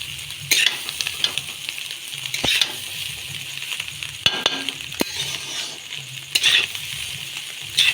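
Egg chowmein with fried vegetables being stir-fried at home, a steady sizzle broken by repeated scraping and clanking strokes of a utensil against the pan, fairly close, with no one speaking.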